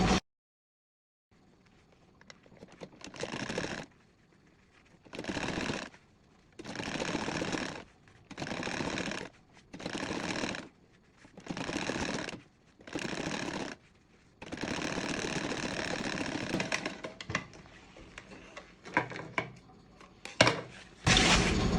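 A sewing machine stitching a quilted tote bag strap runs in about eight short mechanical bursts separated by pauses, then a longer continuous run and a few quick stops, close and fairly loud with no talking.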